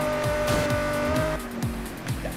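Tires squeal as a car skids and slams through traffic in the racing game Need for Speed Rivals, a loud, steady engine roar with sliding tire tones and several hard impact thumps, no talking.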